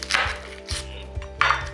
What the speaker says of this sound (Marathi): लांब पीसेस कापून घेणार आहे मी